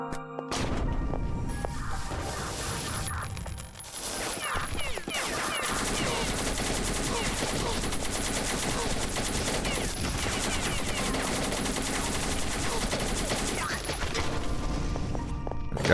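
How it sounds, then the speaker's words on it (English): Heavy machine gun fire in the video game Beyond Citadel, a dense, continuous rattle of rapid shots with crashing impacts lasting most of the stretch, close and loud, with someone talking briefly. "we can have some fun with the heavy MG"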